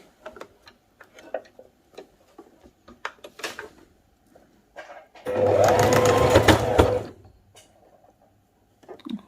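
An electric sewing machine stitches fabric for a capri ankle design, a steady fast rattling run of about two seconds, close by, framed by scattered clicks and handling of cloth before and after.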